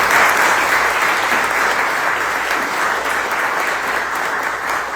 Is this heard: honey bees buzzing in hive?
no